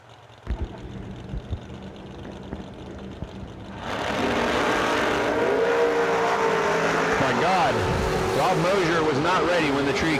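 A Camaro Roadster drag racing car launches at a drag strip, a loud engine roar rising suddenly midway and holding with revving pitch sweeps, preceded by quieter idling and clicks, with an announcer speaking over it.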